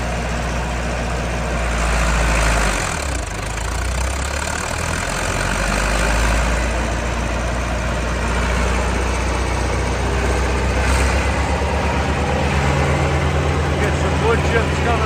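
A 1993 Vermeer 1250BC wood chipper runs steadily with its clutch engaged, a loud continuous engine drone with a brief dip in the load, close by with voices talking over it.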